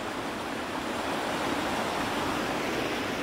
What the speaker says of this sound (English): Beside a river.